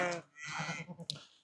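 Sheep bleat on a farm, a couple of wavering calls close by, fairly quiet and alone with no talk.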